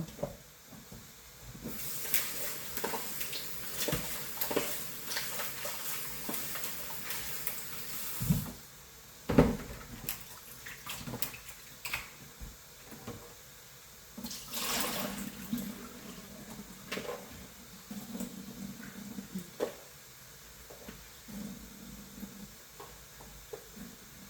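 Vegetables are washed under running water, heard as intermittent splashing and tap-like gushes with clattering handling noises, close and uneven, in bursts over about twenty seconds without speech.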